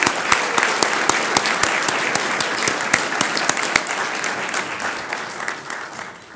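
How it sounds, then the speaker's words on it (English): An audience at the National Press Club applauds a head table guest: steady, close crowd clapping with several sharp, loud individual claps standing out early, gradually thinning toward the end. "A round of applause for our head table guest."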